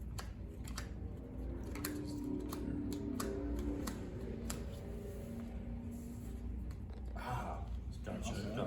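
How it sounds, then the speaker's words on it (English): Two players shuffle their 25-card decks before a tabletop wargame match, giving steady close riffling clicks and soft card slaps throughout, with people talking over it. "They're going to shuffle the decks and they're going to draw their 7 card hands."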